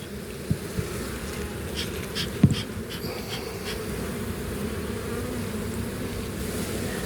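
Honey bees in a Kentucky hive during the first inspection of the season, with smoke in use. Their dense, continuous buzz fills the whole stretch at an even level, with a few soft knocks and clicks of handling near the start.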